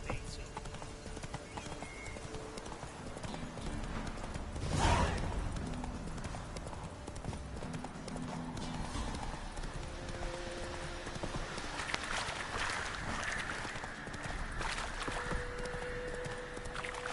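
Hooves clip-clop steadily as a horse gallops through the open world of the video game The Witcher 3, with a brief louder burst partway through and voices heard faintly at times.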